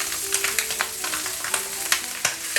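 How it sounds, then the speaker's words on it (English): Cut pieces of pork fat sizzle in a hot wok as they render. A steady, bright crackle carries through with repeated sharp pops and spits, and there is no talking. "I'm gonna add the cut pieces into a hot wok."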